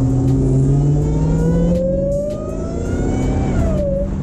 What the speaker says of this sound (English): The iconic thing is that supercharger whine.